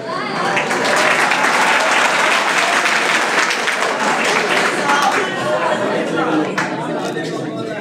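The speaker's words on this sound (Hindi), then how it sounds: "इनका तालियों के साथ स्वागत" Audience applause welcoming a poet at an Urdu mushaira, loud, dense and sustained throughout with some crowd chatter mixed in.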